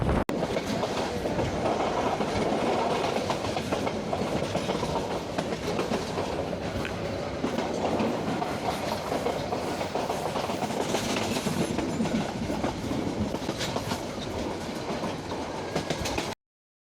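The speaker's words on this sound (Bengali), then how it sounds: "ট্রেন ছেড়ে যাচ্ছে আজমপুর রেলওয়ে স্টেশন।" A train pulls out of Azampur railway station in Bangladesh, a stop just before Brahmanbaria, with steady rumbling wheels and clickety-clack rhythm close by, continuous and fairly loud throughout, no voices.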